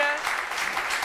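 Studio audience applauding on a Turkish daytime TV talk show, a dense, steady wash of clapping that holds at an even level for about a second.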